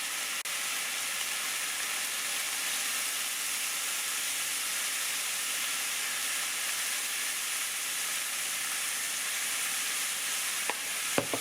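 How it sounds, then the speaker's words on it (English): Pork sizzles and fries in a pan, a steady close hiss that runs throughout, ending with a few light clicks. "the pork is starting to fry up."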